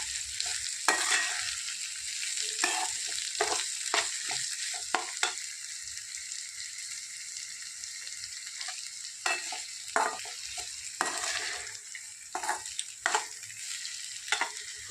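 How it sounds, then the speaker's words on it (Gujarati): Corn kernels for chevdo fry in a pan, a steady sizzle broken again and again by the scrape and clatter of stirring, close and with no talking. "આપણે મકાઈના દાણા બધા એડ કરી દીધા છે"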